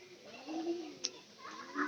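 Pigeons coo in soft, low repeated murmurs, close and moderately quiet, with a single sharp click partway through.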